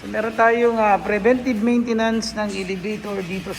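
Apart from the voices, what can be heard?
No everyday noise stands out behind the speech.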